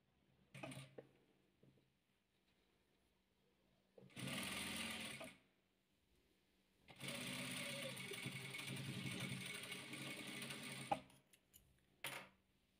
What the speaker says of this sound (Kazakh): Осылай тігіп аламыз.